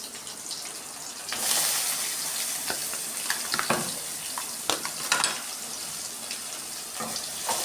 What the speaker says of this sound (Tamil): ஸோ அந்த இப்போ வெங்காயம் வந்து ஒயிட் கலருக்குள்ள அந்த கலர் வந்து ஒரு கோல்டன் கலருக்கு மாறுற வரைக்கும் நம்ம வந்து வதங்க விடணும்